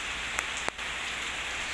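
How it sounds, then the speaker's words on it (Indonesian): Heavy rain pours down in a dense, constant hiss of drops hitting surfaces, with a couple of sharper drips standing out briefly. "Nah ini masih hujan banget, belum cerah-cerahnya."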